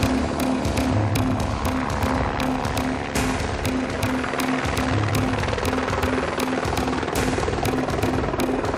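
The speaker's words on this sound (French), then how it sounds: "Tous les hélicoptères qui interviennent en montagne ne font pas uniquement des missions de sauvetage." A mountain helicopter over the Mont Blanc massif flies close by, its rotor chopping in a fast, loud, steady rhythm over a constant engine whine and buzz, with no voices.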